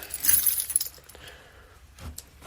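A bunch of keys jangles in a few short metallic bursts of clinking, loudest at the start with another brief shake near the end.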